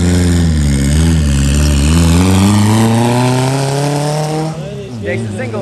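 A race car runs a lap with its trunk open during PCSA eliminations, the engine droning loud and steady with rising pitch before shifting near the end.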